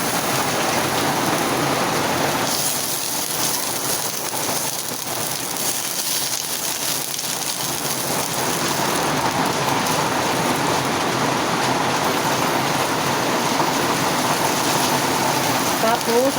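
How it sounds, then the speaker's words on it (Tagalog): Heavy rain pounds a corrugated tin roof in a steady, dense roar that fills the whole stretch, with occasional faint kitchen sounds beneath it. "Grabe, ang lakas ng ulan."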